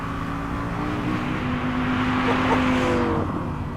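An Audi R8's V10 engine drones steadily and loud, its pitch climbing toward 8,700 RPM and holding high near the end as it revs, without any talking.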